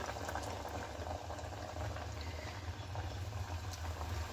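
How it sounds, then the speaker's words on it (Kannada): Puff pastries frying in bubbling hot oil, a steady, close, dense bubbling hiss throughout with no talking. "ಇದನ್ನು ಅದೇ ರೀತಿ ಚೆನ್ನಾಗಿ ಫ್ರೈ ಮಾಡಿ ತಗೋಬೇಕಾಗುತ್ತೆ"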